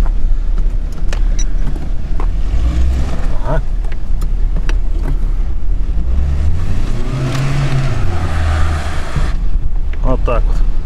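A Lada Niva with an automatic gearbox strains to move off, its engine droning and rising in pitch as it begins to creep forward, with wind buffeting the microphone and people talking nearby.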